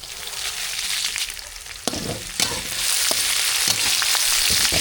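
Oil sizzles and crackles steadily as dried red chilies fry, with occasional sharp pops and stirring clatters, growing a little louder toward the end.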